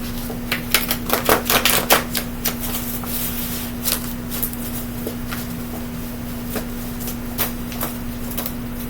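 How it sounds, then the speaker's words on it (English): Cards are shuffled in quick bursts of crisp riffling clicks and slaps, close by over a steady low hum. "Shuffling."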